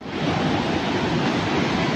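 Flash-flood water rushing at Taytay Falls, a loud, steady, broadband roar that holds unbroken from start to finish with no voices over it.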